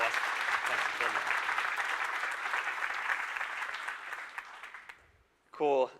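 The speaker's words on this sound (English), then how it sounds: "Please give him a super warm round of applause." Conference crowd applauding during the opening keynote at GraphConnect SF 2015, a broad, steady clapping that tapers off over about five seconds, followed by a brief spoken voice.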